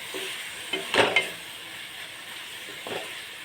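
Ingredients for a coriander chutney being stirred in a pan, a faint ongoing sizzle with a couple of short scraping strokes near the start and a soft one near the end.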